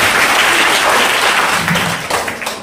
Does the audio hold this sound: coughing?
no